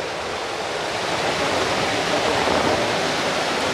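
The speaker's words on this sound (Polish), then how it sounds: "Jest przepust, przez który woda płynie na koło" Water rushes steadily through a sluice channel onto the paddles of an old water mill wheel, a loud, continuous broadband roar with no voices over it.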